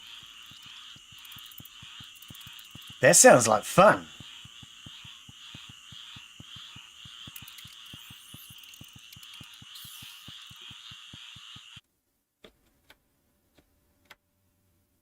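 Frogs croak steadily in Empires of the Undergrowth, a fast, even train of ticking croaks with a high chirping chorus over it. A voice talks briefly near the start, and the sound stops abruptly, leaving a few faint clicks.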